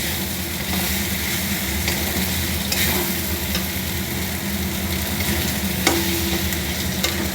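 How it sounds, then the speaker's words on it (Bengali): Tomatoes and lightly fried potatoes being stirred in a frying pan, with a steady sizzle and a constant scraping of the spatula and a few sharper clicks over the whole stretch. "আলুটাও দিয়ে দেবো, টমেটোটাও দিয়ে দিলাম। একটু নাড়াচাড়া করে"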